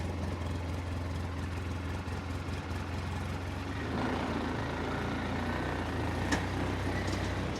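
Truck engine idling and rumbling steadily as it backs up, fairly quiet and continuous with a brief rise in load partway through.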